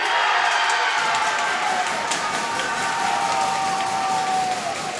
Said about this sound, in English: Crowd's cheering for court number 2 as well.